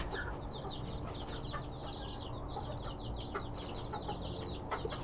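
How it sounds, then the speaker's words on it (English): Small Serama bantam chickens, a tiny breed, cluck and chatter in a busy cluster of short calls over steady farmyard background noise, with no talking. "Sarama is basically the smallest breed of chicken."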